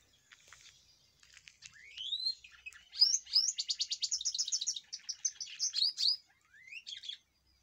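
Chicks chirp near a garden lizard outdoors, with a long run of high, rapid, clear tweets and trills that rise and fall, fairly close and alone in an otherwise quiet setting.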